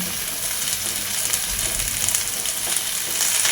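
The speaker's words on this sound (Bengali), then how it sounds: "লঙ্কা ও হলুদ গুঁড়ো দিয়ে একটু নাড়াচাড়া করে নিয়ে এবার এর মধ্যে কেটে রাখা শাক ও আলুটা দিয়ে দেব" Chopped spinach and potato frying in a pan with chili and turmeric powder: a continuous loud, close sizzle with stirring scrapes underneath, and no speech.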